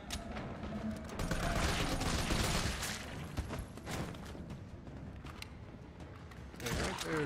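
Gunshots in Resident Evil 3 on Nightmare Mode, landing headshots: repeated sharp cracks over a dense, continuous layer of game noise and music, moderately loud and steady throughout.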